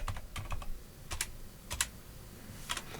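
Keys tapped on a computer keyboard while entering a search, a few scattered, moderately loud clicks in two quick clusters over a faint background hum, with no voices.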